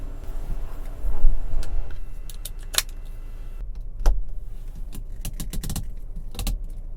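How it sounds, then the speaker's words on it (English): Motor whir and clicks from the sunroof closing inside a 2018 Audi Q5 cabin, with a steady low drone, a few sharp ticks and knocks, and no talking. "shut the sunroof."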